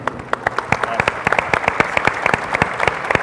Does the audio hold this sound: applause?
yes